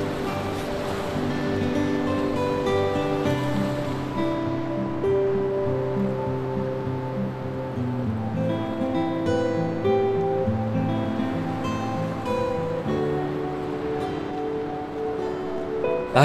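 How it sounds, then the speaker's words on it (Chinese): Ocean waves at the seaside wash in a continuous broad roar, steady and fairly loud throughout with no voices. "好久没有来海边了。"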